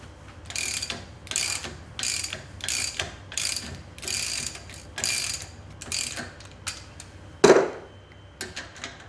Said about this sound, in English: Take the 19mm socket and the ratchet and release the bottom nut counterclockwise.